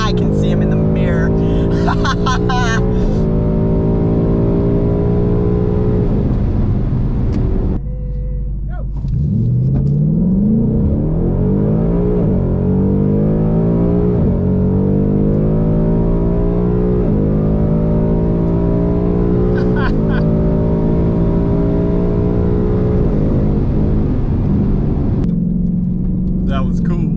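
A race car revs and accelerates at a racing event, its loud engine note climbing through the gears with brief lifts and a short dip in between. The roar stays close and dominant throughout.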